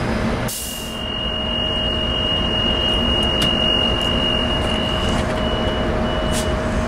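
A train rumbles past nearby as a steady broad roar with a sustained tone, loud and continuous throughout, with no voices over it.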